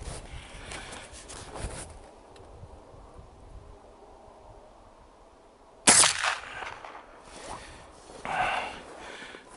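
A single crisp, loud rifle shot fires a homemade .32 caliber bullet outdoors, followed by brief rustling and movement amid low background noise.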